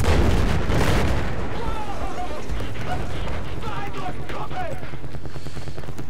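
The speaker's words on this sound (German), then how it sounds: "Es macht Bumm!" Explosions in the video game Battlefield 4 during a tank battle, a heavy loud boom at the start followed by smaller bursts and crackling, with a player talking over the action.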